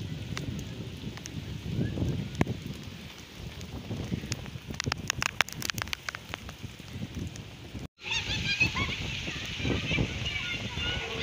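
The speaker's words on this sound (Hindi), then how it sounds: "तूफ़ानी बारिश" Heavy stormy rain pours steadily in Chattroh, a dense hiss of drops splashing on surfaces with gusts of wind, continuous and fairly close, with a brief cut partway through.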